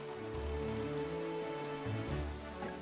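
Rain falls steadily in Wind Waker HD, a faint continuous patter under a low droning tonal background.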